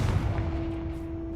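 A Confringo blasting spell cast in Hogwarts Legacy bursts as a loud, close boom with a rumbling low-end blast that rings out and slowly decays, no talking over it.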